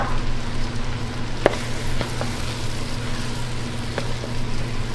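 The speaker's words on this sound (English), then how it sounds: "we're gonna add our mushrooms back in. Give it a little stir." Mushrooms go back into a hot pan and get stirred, a soft steady sizzle with a steady low hum and a few light clicks of the utensil against the pan.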